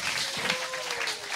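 An audience at a live talk show breaks into brief, dense applause, a short, steady wash of clapping heard close and fairly loud.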